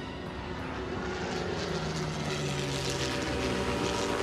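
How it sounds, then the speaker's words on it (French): Aircraft engine in an animated cartoon, a steady droning propeller-plane roar that swells slightly as it approaches, loud and continuous with no voices. "On dirait une sorte d'avion."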